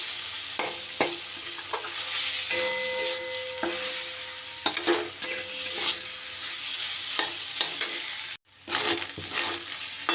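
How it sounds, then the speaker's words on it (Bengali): Fish frying with onion and garlic in a pan for a cabbage dish gives a close, continuous sizzle. A spatula stirs and scrapes through it again and again. No voices speak. "বেশ কিছুটা সময় ধরে মাছটাকে কিন্তু আমি এইভাবে ভাজা ভাজা করে নিয়েছি"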